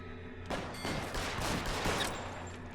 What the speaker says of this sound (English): He shot my hat off again.